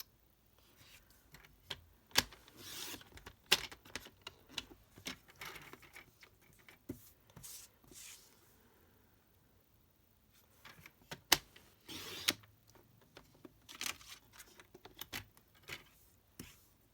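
A paper trimmer cuts card mats in a quiet room. Faint scattered clicks, slides and sharp snaps of the blade come at irregular intervals, with louder cuts near the start and middle.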